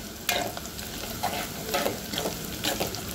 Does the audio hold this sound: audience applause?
no